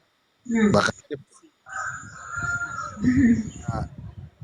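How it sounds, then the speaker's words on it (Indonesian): A stray chicken crows and clucks nearby in short bursts, with people talking over and around it. "Ayamnya siapa itu? Ayam nyasar kali Pak."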